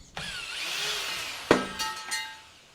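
A power drill driving out the screws of a padlock bracket on a wooden cabin door: a sustained whirring run, then a sharp bang at about 1.5 seconds followed by two shorter bursts, close and fairly loud, with no talk.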